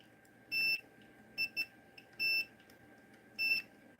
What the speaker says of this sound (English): I poke one side, beep. Poke the other side, no beep.